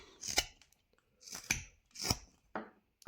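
A knife whittles a small wooden barn owl carving, making four crisp separate slicing cuts spaced about half a second apart, close and quiet with silence between strokes.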